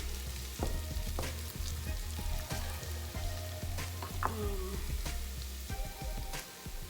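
Green beans and beef stir-fry in a hot pan with a steady crackling sizzle, punctuated by frequent spatula taps and scrapes against the metal, heard close with no talking.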